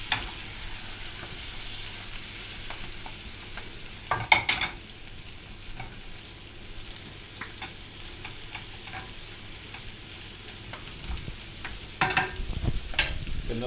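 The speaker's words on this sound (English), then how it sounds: "Flicking is a good way of stirring things around." A frying pan flicked on the stove to toss a cooking omelette, giving a steady faint sizzle broken by a few sharp scraping jolts and clatters, heard alone without voices.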